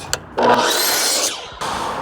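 A saw cuts through a fluted wall panel in two short rasping strokes, close and fairly loud, separated by a brief pause.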